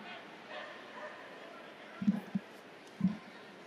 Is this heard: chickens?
no